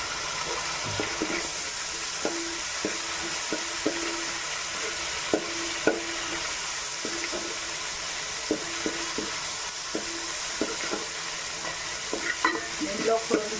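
Ginger and garlic sizzle steadily in a hot pan for mutton keema, with a spoon scraping and stirring in a regular rhythm of soft clanks, close and moderately loud, no talking.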